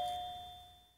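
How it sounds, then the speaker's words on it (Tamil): A single electronic doorbell ding in a home rings out as one clear tone and fades away over about a second, fairly faint and alone. "காலிங் பெல் அடிக்குது பாருடா, கதவு திறடா"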